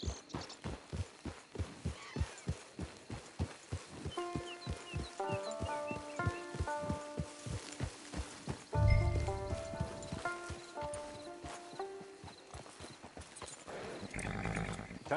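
Horse hooves clip-clopping at a steady trot while riding in the Red Dead Redemption II video game, with a background music score rising midway and no talking.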